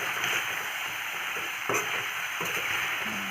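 Meat seasoned with bay leaf, salt and turmeric being stirred in a pan, a steady close sizzle with soft scraping strokes and two brief louder clatters.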